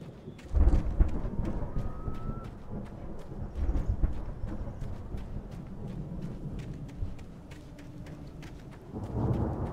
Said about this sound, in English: The storm raged on as the Anderson brothers walked unsteadily away from the clinic